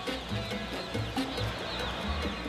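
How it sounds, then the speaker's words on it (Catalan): A crowd of baby chicks peeping and cheeping together, a dense continuous chorus of many small birds close by with no talking over it. "Milions de pollets moníssims i catalans!"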